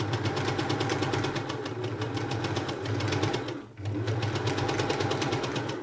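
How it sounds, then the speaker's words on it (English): A 1948 Singer 201K sewing machine runs steadily, stitching fabric with a fast, even mechanical whir and rapid rhythmic clatter. The motor sounds a bit noisy and pauses briefly before continuing at the same speed. "Yep, it's sewing. It's not overly quiet."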